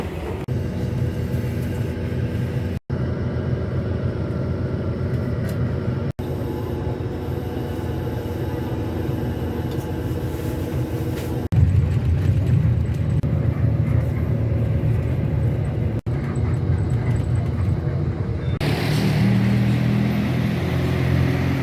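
Inside a moving bus on a road trip from Wonosobo to Magelang, Indonesia: a loud, continuous low engine rumble and road drone that shifts in tone partway through, with a few brief knocks and no talk.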